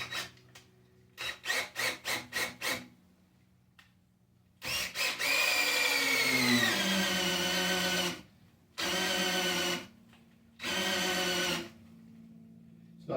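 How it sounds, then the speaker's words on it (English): Cordless drill whirs in short bursts while pumping engine oil on a Camaro during a rebuild, starting with a quick series of brief pulses, then longer steady runs, one winding down in pitch, close and fairly quiet. "let's see if we can get it to pump with a cordless drill"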